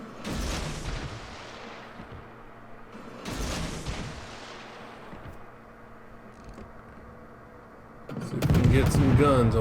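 Naval guns fire in World of Warships, around a Pan-European tier-6 destroyer: two heavy booms with long rumbling decays, followed by a louder, busier burst of battle noise at the end.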